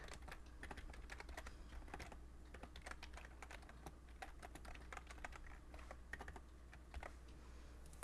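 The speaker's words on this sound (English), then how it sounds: "I suck at typing right now." Rapid, uneven typing on a computer keyboard, quiet and close, with clusters of light key clicks and brief pauses over a steady low hum, no voices.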